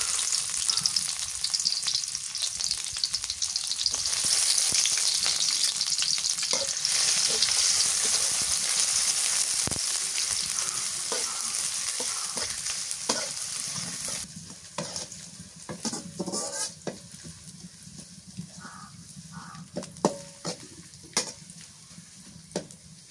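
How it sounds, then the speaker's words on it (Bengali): Chopped onions frying in mustard oil in a village kitchen, a steady loud sizzle with frequent stirring scrapes and clinks, the sizzle easing somewhat in the later part. "পেঁয়াজ ভাজা হয়ে গেছে"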